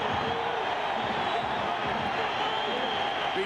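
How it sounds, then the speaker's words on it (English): A dense, steady crowd roar fills a football stadium during the 1997 Insight.com Bowl college game between Arizona and New Mexico, holding loud and unbroken throughout, with a commentator's voice partly under it. "and you hear the crowd reaction"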